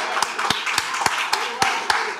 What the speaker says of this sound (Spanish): Aplaudo.